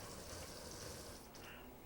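Water gushing steadily into a tank during a refill in Farming Simulator 25, a continuous close rush of liquid with a faint mechanical rattle, no voices.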